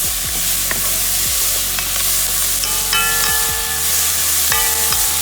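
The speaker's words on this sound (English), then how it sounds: "Move it around so it doesn't burn." Oxtail stew ingredients sizzle and fry in a pan while a utensil stirs them, loud frying hiss with repeated scraping strokes up close, no voices.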